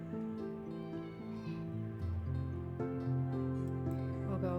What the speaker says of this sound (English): At the end of the alley, in a big cardboard box, the cat again, is a cat.